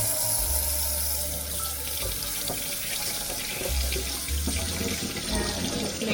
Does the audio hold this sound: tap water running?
yes